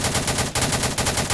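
Gunfire rattles in the Roblox game Harbour Havoc, a loud, dense burst of rapid automatic shots that continues without a break through the whole moment, with no voices over it.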